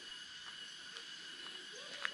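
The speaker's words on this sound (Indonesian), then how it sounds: "di sini masih terdengar suara tonggeret dan" Insects, stated as cicadas, drone steadily in the forest around a hillside village in Kuningan, Indonesia, a faint continuous high buzzing with a soft chirp near the end and no voices.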